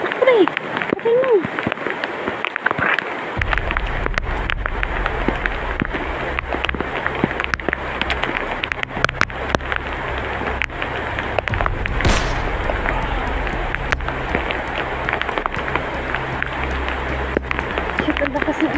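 Heavy rain pours down in a loud, steady, hissing roar that never lets up, with people talking over it.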